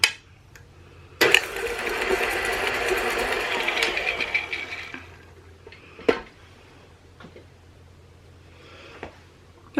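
An electric mixer creams butter and sugar, whirring loudly for about four seconds before stopping. Clunks and knocks of the bowl and mixer follow in the quieter remainder.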